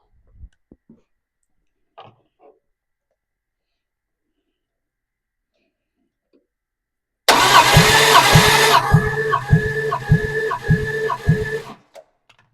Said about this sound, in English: we should be building oil pressure very soon with all this cranking